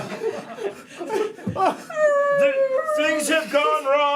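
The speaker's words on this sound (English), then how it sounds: "That's not my dog." A dog howls in rising, wavering tones, loud and close, following a stretch of laughter and chatter from people nearby.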